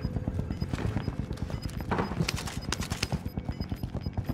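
PPSh submachine gun fire in Warzone, heard as a fast, rhythmic string of sharp shots pulsing steadily at moderate volume over a busy game background, with no talk.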